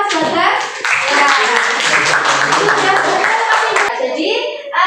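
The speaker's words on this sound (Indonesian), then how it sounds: "kita beri tepuk tangan untuk Mas Bagas" A high school classroom claps for a student after he answers a chemistry question, a burst of many hands clapping close by, with a teacher and children talking at the start and end.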